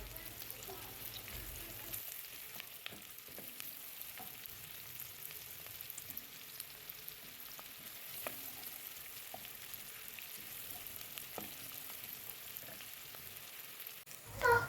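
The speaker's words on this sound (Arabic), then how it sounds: "هنا بقى نزلت بالثوم وبالفلفل مع بعض" Garlic and hot chili pepper fry in a pan for a vegetarian moussaka, giving a faint, steady sizzle with scattered crackles throughout.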